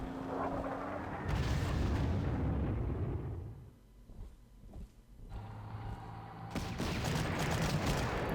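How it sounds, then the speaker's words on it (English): Artillery fire in the Panzer Corps strategy game, loud bursts of booming gunfire and explosions that swell, drop into a quieter gap of scattered thuds, then erupt again with heavy rumbling blasts. "Always good for the artillery."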